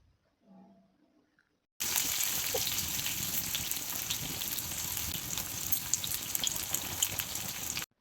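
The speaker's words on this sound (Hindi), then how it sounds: "कढ़ाई रे का तेल टिके दे करी सुरसों टिके दे देली सूखा मिर्चा लहसुन प्याज दे करी" Mustard seeds, dried chili, garlic and onion frying in hot oil in a kadhai, a loud steady sizzle that bursts in after a quiet start and holds without a break until the very end.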